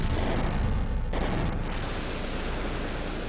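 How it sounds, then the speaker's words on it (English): Huge explosion in the Seiken Densetsu 3 video game, a loud, dense blast of noise that roars on and fades into a rushing tail. "And in another huge explosion"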